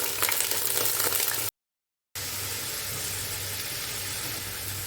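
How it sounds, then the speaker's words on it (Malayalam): Washed rice grains fry in hot ghee with a steady, dense sizzle and crackle, broken by a short gap of silence partway through. "ഇതിന് നമുക്കൊരു 3 മിനിറ്റ് വരെ ഒന്ന് വറുത്തെടുക്കാം."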